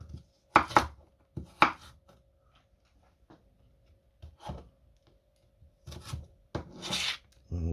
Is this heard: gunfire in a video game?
no